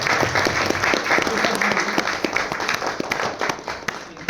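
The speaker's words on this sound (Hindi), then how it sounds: "जोरदार तालियां हम लोगों के लिए" An audience applauds the cast after a stage play, with loud, busy clapping and distinct sharp claps near the front, tapering slightly toward the end, with some voices mixed in.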